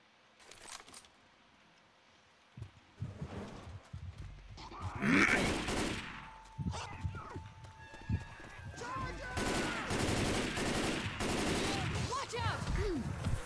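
Shotgun blasts in the Left 4 Dead 2 video game, several loud broadband bursts spread through the clip amid game effects, with players talking over the action.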